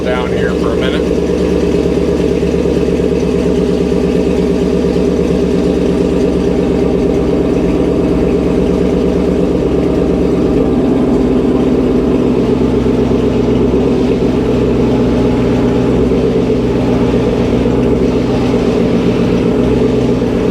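An engine idles with a steady, continuous low rumble for the whole stretch, loud and close, with no talking over it.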